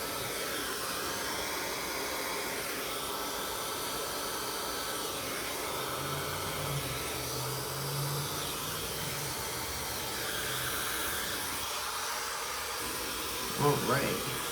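A hair dryer fitted with a diffuser blows a steady, fairly quiet airy rush while drying curly hair, its tone shifting slightly as the airflow changes, ending with a few brief knocks.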